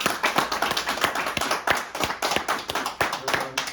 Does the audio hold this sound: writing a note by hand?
no